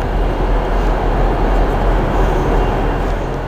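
A loud, steady low rumble of a train at a station, continuous and close, with no voices.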